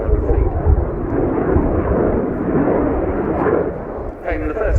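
Ukrainian Air Force Su-27P1M Flanker jet in a tight turn during an airshow flying display, a loud, steady roaring rush of engine noise that holds throughout with a slight dip near the end.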